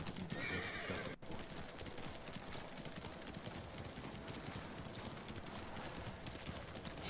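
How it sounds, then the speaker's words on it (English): Steady clip-clopping of horse hooves in the video game Ghost of Tsushima plods along at an even walking rhythm, with a horse's whinny mixed in, close and clear. "Horse will find his own way."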